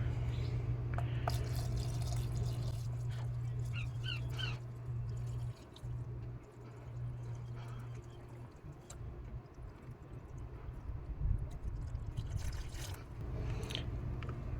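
Water splashes and trickles steadily into a factory rear seat rubber floor liner from a 2024 Subaru Crosstrek, with a low hum underneath and some handling clatter.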